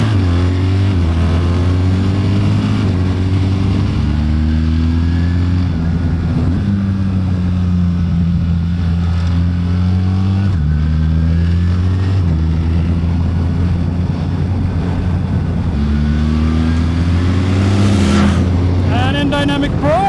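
BMW R1300 GS Adventure motorcycle engine revving through the gears, a loud, steady low drone whose pitch climbs and drops in repeated steps, close and continuous with talk over it.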